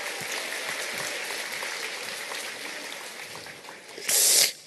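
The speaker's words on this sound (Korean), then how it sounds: "지금 어마어마하게 박수를 치시는 분은요" A crowd at a marketing seminar applauds steadily, a dense wash of clapping hands held at an even level throughout, with a brief louder burst of noise near the end.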